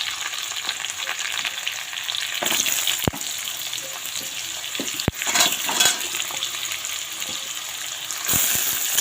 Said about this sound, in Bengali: পেঁয়াজ কুচি দিয়ে ভাজা করে নেব, নিয়ে তারপর এর মধ্যে দিয়ে দেবো তোমার আলু, কেটে রাখা আলু।